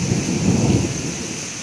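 Thunder from a thunderstorm with lightning, a steady low rumble and rushing roar with rain noise, loud and continuous throughout without any voices.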